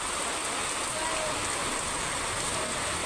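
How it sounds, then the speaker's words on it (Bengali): Heavy rain pours down as a dense, unbroken roaring hiss that stays steady and loud throughout. "তো দেখো কি জোরে বৃষ্টি হচ্ছে।"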